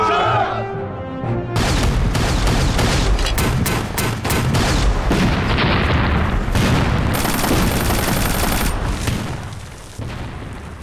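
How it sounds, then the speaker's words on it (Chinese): Heavy battlefield gunfire and artillery in a war film about the anti-Japanese war: dense, continuous bursts of rifle and machine-gun fire mixed with booming blasts, loud and sustained after a brief quieter opening. "敌人的火力非常的凶猛"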